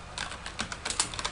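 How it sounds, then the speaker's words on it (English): Someone types a command on a computer keyboard while setting up a minimal Ubuntu 12.04 system, giving a short run of crisp, close key clicks in an uneven rhythm with no talking. "So I'm going to type in"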